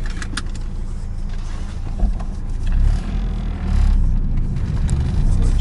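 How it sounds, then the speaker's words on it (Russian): A car pulling away from a gas station, engine rumbling low and building as it accelerates, heard from inside the cabin with small rattles and some brief talk. "Выезжаем с заправки."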